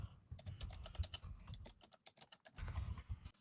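Rapid, uneven typing on a computer keyboard, with bursts of close, crisp key clicks that pause and restart over a low background rumble.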